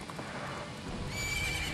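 A horse neighs and whinnies while being ridden in Majora's Mask, with faint hoof clip-clop underneath; one short, fairly quiet burst.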